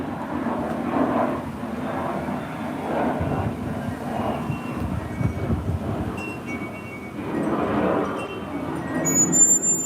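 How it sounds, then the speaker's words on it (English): A fighter jet flies overhead as a broad, rumbling roar that swells and fades across the whole stretch, steady and fairly loud, with little else over it. "Sorry, trying to see what's flying overhead."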